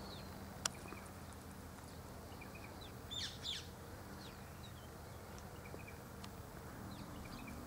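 Faint, scattered high chirps from silvereyes feeding on plum blossom nectar, a short burst in the middle, over a steady outdoor background hum.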